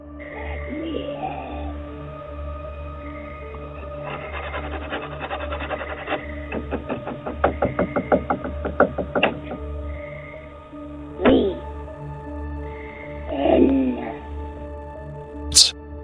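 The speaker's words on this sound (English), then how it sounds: "The knocking grows louder, the scratching more desperate." Scratching and scraping at a back door builds into rapid bursts of rubbing and knocking, then breaks into a few sharper isolated thumps, with a faint voice murmuring in the background.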